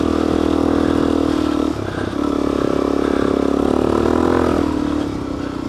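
A dirt bike engine revs hard at high RPM while riding in sand in New Mexico, a loud sustained roar with a brief dip before climbing again.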